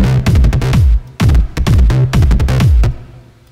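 FL Studio beat combined with a sliding-note synth melody, punchy drum hits and gliding bass-like notes in a steady loop, loud and close with a short fade at the end, no talk.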